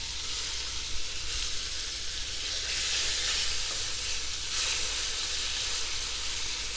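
Floured pieces of food sizzle and crackle steadily in a hot frying pan while being flipped, a dense continuous hiss held close and fairly loud with no one talking.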